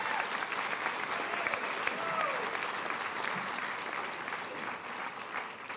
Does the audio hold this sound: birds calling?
no